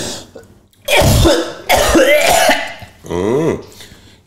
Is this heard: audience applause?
no